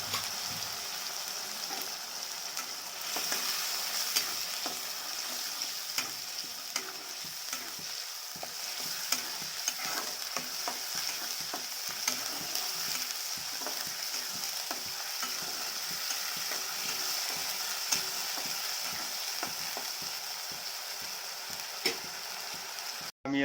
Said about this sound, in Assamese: এতিয়া আমি মছলাখিনি ধুনীয়াকৈ ভাজি ল'ম।